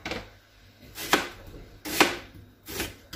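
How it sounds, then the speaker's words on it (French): A knife chops onions, peppers, tomato, garlic and salsiccia sausage on a cutting board, with three separate close thuds at an uneven pace and short pauses between them. "Nous allons hacher tous les ingrédients, c'est-à-dire les oignons, les poivrons, la tomate, la salsiccia, le ail"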